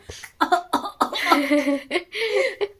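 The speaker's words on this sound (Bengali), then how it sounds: "কাশির স্টাইলটা এত ভালো লাগে এরকম করে কাশছে" A young child with a cold coughs close up in a string of short, voiced bursts, a few hoarse and drawn out, with brief pauses between them.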